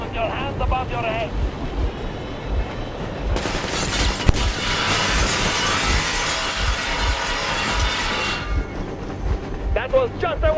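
A train engine runs steadily in the Metro Exodus video game, a loud, dense rumble and hiss that swells in the middle and stays under a voice.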